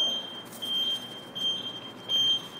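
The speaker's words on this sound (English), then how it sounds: "turn the buzzers off" A high electronic buzzer alarm beeps in long intermittent tones over a low background hum, fairly faint.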